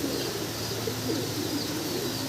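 Pigeons coo softly and continuously at a pigeon farm, a low murmuring chorus of many birds with steady background noise and no talking.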